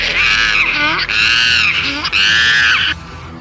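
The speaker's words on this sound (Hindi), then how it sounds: "जवाब में गोरिल्ला भी चीखा।" A giant gorilla screams as a comic sound effect, three loud, sustained howling bursts in quick succession, close and harsh, broken by brief gaps.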